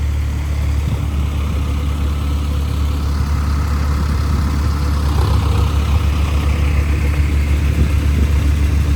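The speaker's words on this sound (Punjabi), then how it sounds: "ਟਰੈਕਟਰ ਖੜਾ ਆਪਣਾ ਆਵਾਜ਼ ਵੀ ਸੋਹਣੀ ਆ ਤੇ ਸਲੈਂਸਰ ਵੀ ਬਹੁਤ ਸੋਹਣਾ ਲੱਗਦਾ ਮੈਨੂੰ" A parked tractor with a distinctive silencer idles nearby, a continuous heavy low throb holding steady and loud throughout with no voices.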